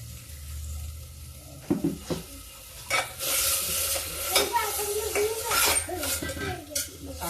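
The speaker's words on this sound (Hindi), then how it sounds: "मसाला पक रहा।" Masala for dhaba-style aloo dum sizzles in oil in a pan while a spoon scrapes and stirs it, with clinks of utensil on metal over a constant frying hiss and some quiet voices in the background.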